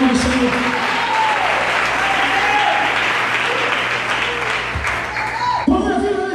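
A church congregation applauding, loud continuous clapping heard close and steady throughout, with a voice speaking over it and crowd noise mixed in.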